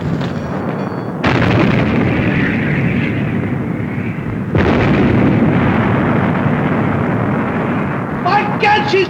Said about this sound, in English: By God, she's firing again!